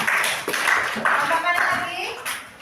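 Applause from a classroom audience for a student group, a steady patter of many hands clapping close by, with a teacher's voice talking over it throughout.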